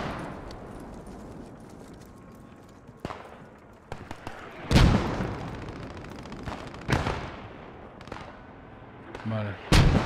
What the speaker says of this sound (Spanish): Estoy escuchando tiros por aquí.